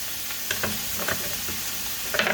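Onion dropped into meat already frying and sizzling in a pan, with a steady quiet sizzle broken by a few soft stirring scrapes and pops, louder crackling near the end.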